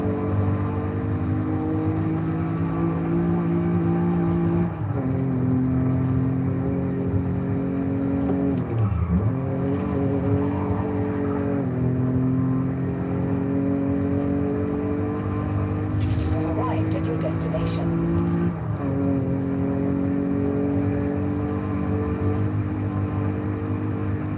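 A European car's engine revs hard at high RPM during a night cruise, a loud sustained droning whine that climbs and dips with gear changes while a voice talks over it.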